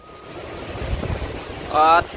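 Strong storm wind roars steadily in a gusty rural squall said to reach 120 km/h, with a harsh, buffeting rush across the microphone and a brief whistling tone near the end.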